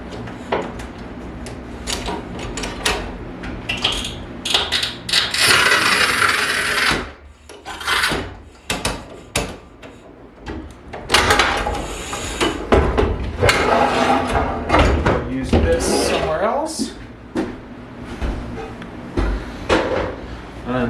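Tile being scored and snapped with a manual tile cutter while building a mitered shower bench, with repeated close scraping and rasping strokes, clunks and a sharp crack, plus occasional faint talk.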